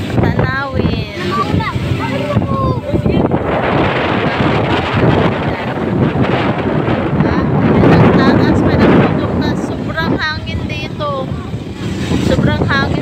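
Strong gusts buffet the microphone at Wawa Dam in a roaring, continuous rush, with people talking and birds chirping faintly beneath the wind.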